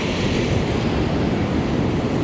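Big ocean waves breaking on a beach during surf fishing around high tide, a steady loud roar of surf with wind noise buffeting the microphone, no voices.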